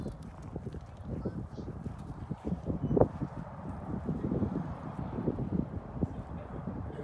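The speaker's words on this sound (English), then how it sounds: "Yeah, nice horse." A horse on a farm shifts about, with soft hoof thuds and rustling against light wind noise, and one sharper knock partway through.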